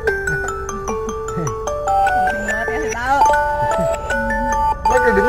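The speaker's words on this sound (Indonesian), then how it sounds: "Ah, ada telepon ya?" A mobile phone rings with a steady electronic melody of bright repeating tones, loud and near, running continuously over faint background noise.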